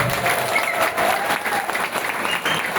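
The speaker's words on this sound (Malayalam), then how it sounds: "ഇന്ന് വുമൻസ് ഡേക്ക് എല്ലാ പുരുഷന്മാരും നമ്മുടെ ലേഡി അയൺസിന് നല്ലൊരു കയ്യടി കൊടുക്കാം" Audience clapping for women at a Women's Day gathering, an unbroken burst of dense, close applause from start to finish.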